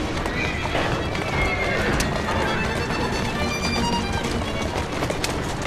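A horse in Assassin's Creed Syndicate gallops with dense, continuous hoofbeats and repeated neighs, loud and close throughout, with a voice mixed into the busy game soundscape.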